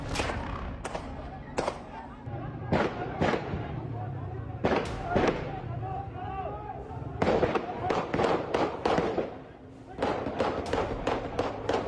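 Gunfire during a violent protest in Pakistan-occupied Kashmir, with more than ten rounds in quick succession: sharp, loud cracks in uneven bursts over a steady background of voices and crowd noise.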